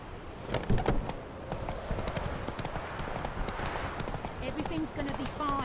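Horse hooves clip-clopping at speed in The Witcher 3: Wild Hunt, a steady rhythmic pounding mixed with ambient game sound, with a voice speaking briefly over it.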